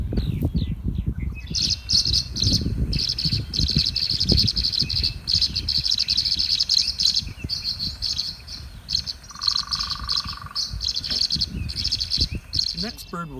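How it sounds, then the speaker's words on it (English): Tree swallow calls from the Pioneer Valley: repeated high twittering chirps in irregular bursts throughout, with steady insect-like trilling and faint outdoor background noise. "let's take a listen to the tree swallow"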